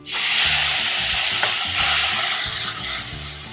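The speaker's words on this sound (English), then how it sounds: "I'm also going to add a little bit of brandy right now to this. And that will kind of deglaze my pan." Brandy hits a hot pan of caramelized bananas, setting off a loud, close, steady sizzle that starts abruptly and hisses continuously, slowly easing off with faint stirring underneath.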